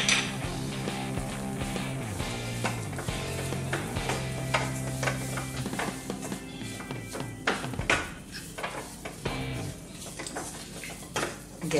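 Ghee sizzles in a pan of coconut mava while a utensil stirs and scrapes against the metal, keeping up a steady, close, busy clatter throughout. No one speaks.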